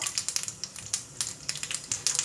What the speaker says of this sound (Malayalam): കടുക് പൊട്ടുമ്പോൾ ഒരു ലേശം കടലപ്പരിപ്പ് ചേർക്കാം